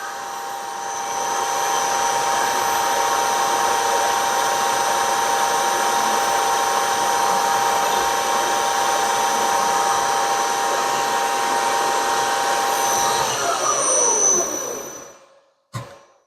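A milling machine whirs with a steady high-pitched tonal drone as it cuts a slot in steel for steam ports, continuous and loud, then winds down near the end.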